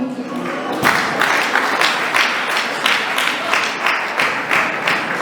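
A church congregation at an anniversary service breaks into applause, a sudden burst of close clapping that pulses in waves for several seconds with no talk over it.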